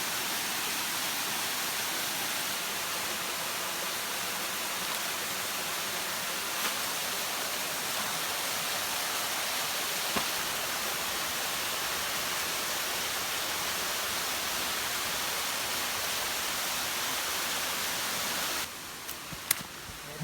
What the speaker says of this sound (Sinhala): මේ තමයි අපේ දෙවනි ඇල්ල.